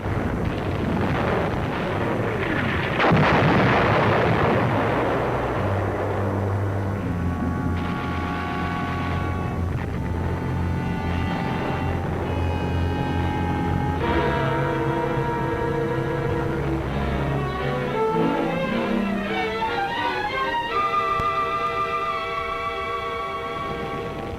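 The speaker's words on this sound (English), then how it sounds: "This German gun fired Nazi propaganda as well as Nazi high explosive." A German artillery gun of World War II fires heavy booming blasts that roll into rumbling echoes, followed by a long stretch of mechanical droning and tonal ringing, loud and continuous with no speech.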